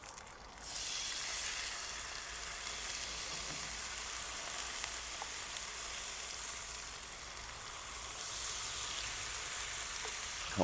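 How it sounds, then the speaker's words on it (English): Scottish breakfast with lorne sausage, black pudding and fruit pudding frying in a pan outdoors at a campsite, a continuous close sizzle and hiss of fat with no talk. "I think we better have a full fry up really"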